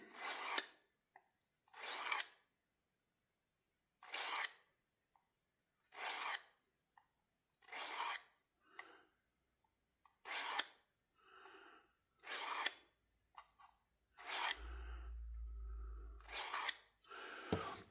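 A knife blade being sharpened on a Work Sharp field sharpener, about a dozen separate rasping strokes at a steady rhythm, close and clear, with quiet gaps between passes and a short low thump near the end.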